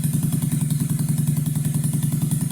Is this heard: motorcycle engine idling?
yes